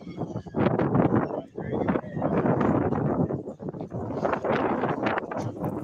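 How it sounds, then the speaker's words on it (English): Wind buffets the microphone outdoors in broad, steady rumbling gusts that rise and fall throughout, loud and close with no clear voices. "It sounds like it was windy that day."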